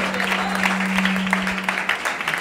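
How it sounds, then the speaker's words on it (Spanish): Church congregation applauding during worship, continuous loud clapping with a steady low hum beneath it that fades partway through. "Esa es su mejor ofrenda de aplausos"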